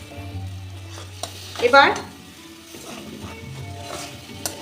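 Bombay duck (lote) fish, soaked in vinegar and salt and rinsed, drops into a hot pan of well-fried masala with a sharp burst of sizzling and frying, then settles into a softer steady sizzle while a voice speaks briefly.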